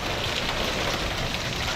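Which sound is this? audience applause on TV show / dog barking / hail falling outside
hail falling outside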